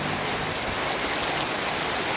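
Heavy rain in Antalya pours down steadily, a dense continuous hiss with no voices.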